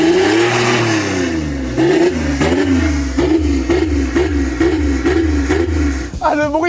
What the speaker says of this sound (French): On s'attend pas à ce qu'un V6 d'une C6 il fasse ce bruit-là